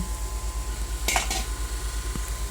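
A metal lid clatters onto a pot of simmering macaroni soup with ground meat, two short bright clinks over a steady low bubbling hum, followed later by a faint dull tap.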